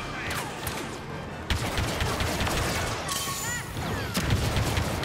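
Blaster gunfire from the Star Wars Battlefront 2 campaign on Bespin crackles in dense rapid volleys, with zapping laser bolts and sharp chirping tones over a continuous loud battle din.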